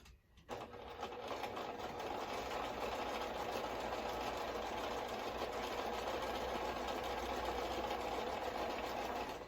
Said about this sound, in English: I'm going to sew my 1/4 inch seam again.